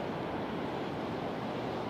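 Wild ocean surf breaking at Wharariki Beach in Golden Bay, New Zealand, a steady, loud roar of waves with wind noise, continuous and without voices.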